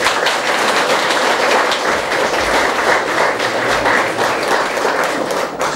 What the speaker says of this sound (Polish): Gromkie brawa, naprawdę.